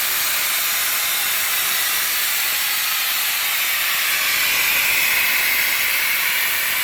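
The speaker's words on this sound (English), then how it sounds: "Once we pass the edge of the drum, you'll hear the air." Steady, loud hiss of pressurized air rushing out of a Graco heavy-duty drum pump, continuous and broadband, swelling slightly toward the end.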